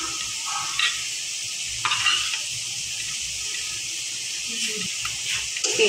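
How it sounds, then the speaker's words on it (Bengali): Taki fish frying in hot oil gives a steady, close sizzle that runs the whole time, with a few brief clinks and scrapes of a utensil now and then. "মাছ ভাজা হয়েছে, উঠে দেবো।"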